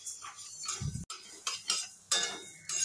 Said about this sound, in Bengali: আঁচ কমিয়ে ডাল ভেজে নিতে হবে, নইলে কিন্তু নিচ থেকে পোড়া লেগে যেতে পারে। আর ডাল এভাবে কন্টিনিউ নাড়তে হবে।